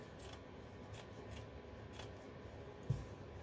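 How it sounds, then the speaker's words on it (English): Scissors snip through fabric in a series of soft, quiet, regularly spaced cuts with a faint rustle between them, followed by a light knock near the end. "And cut the fabric"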